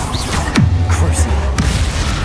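A Bombarda blasting spell in Hogwarts Legacy goes off as a sharp crack followed by a deep, sustained booming rumble, loud and close, with a second smaller crack near the end.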